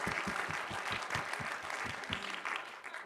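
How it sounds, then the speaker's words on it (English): An audience at a startup accelerator pitch event claps in a steady, dense round of applause, moderately distant and continuous, with individual hand claps faintly distinguishable throughout. "let's give him a whistle and a round of applause"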